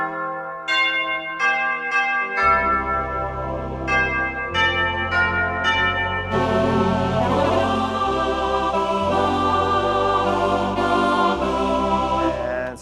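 Chime voice on a Lowrey organ rings out in bell-like struck notes, a short melodic run of separate tones that builds into a fuller sustained chord passage over a low bass accompaniment, loud and close with no talking.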